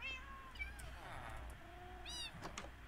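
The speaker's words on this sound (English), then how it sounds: "Got 6 cats." Two distinct meows from a cat in Minecraft, one early and a brighter one later, sound over a low, quiet background with faint talk.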